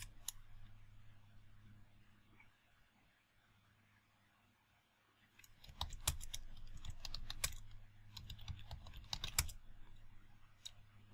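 Keys clatter on a computer keyboard as a Linux terminal command is typed, a quiet lull giving way to a steady burst of close, crisp clicks and taps over a low background hum.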